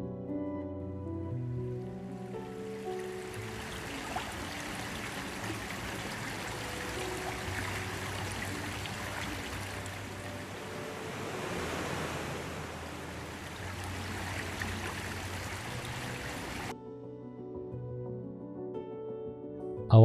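River ambience from a looped natural-sound effect placed along a river in an Unreal Engine level: a steady, full rushing of flowing water with tonal music running beneath, continuous until a quieter tail.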